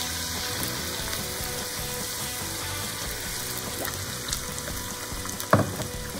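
Potatoes fry in hot oil with a steady sizzle and bubbling hiss, close by and moderately loud, broken by a brief clatter near the end and no talking.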